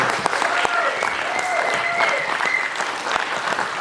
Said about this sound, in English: how about one more round of applause for this group?